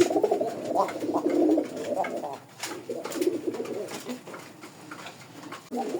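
Rajgolla pigeons coo in low, throaty rolling phrases, repeating in bursts with brief pauses, close by against faint background noise.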